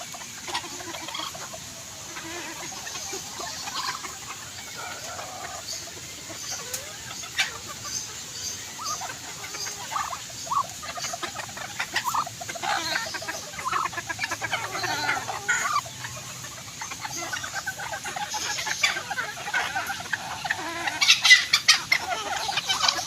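A red bantam chicken wet from the rain clucks near the house, soft scattered clucks and calls over a faint background of rain and rustling, with no one speaking.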